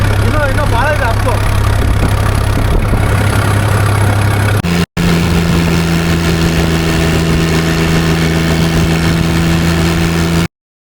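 A farm vehicle engine runs steadily at 1100 RPM, a loud continuous hum with a brief cut midway, then resumes with a steadier low drone; voices talk over it in the first half.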